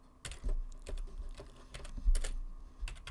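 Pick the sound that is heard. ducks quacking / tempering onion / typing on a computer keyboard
typing on a computer keyboard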